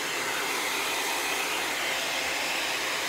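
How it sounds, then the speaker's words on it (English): A handheld blow dryer runs steadily as it dries freshly washed hair, giving a close, constant airy whoosh with no pauses and no talking. "I was just blow drying my hair"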